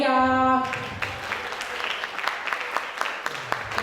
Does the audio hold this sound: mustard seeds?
no